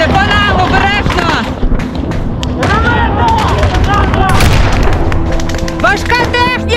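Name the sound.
tank fire and gunfire in combat near Avdiivka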